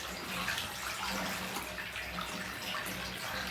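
Bathtub filling from the tap, a steady close rush of running water splashing into the bath, continuous and fairly loud with no voices.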